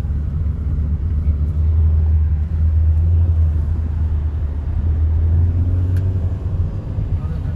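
A car drives steadily uphill toward a hilltop temple, a continuous low engine rumble and road noise from inside the vehicle, with people talking briefly over it.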